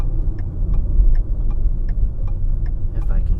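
A car's hazard lights tick in a steady, even rhythm, faint above the loud low rumble of the idling engine while the car sits parked at the roadside by a pond.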